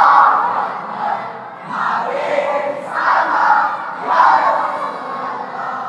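Large crowd at a Bangla waz religious gathering in Chittagong chanting the takbir "Allahu Akbar" in loud, rhythmic waves of voices that swell and fall repeatedly.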